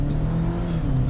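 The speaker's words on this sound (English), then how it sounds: "I'm gonna floor it." A 2018 Jeep JL turbo roars steadily at full throttle, a dense, loud engine drone with a low rising tone heard from inside the vehicle, no voices over it.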